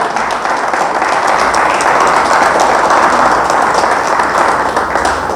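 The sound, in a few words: church congregation applauding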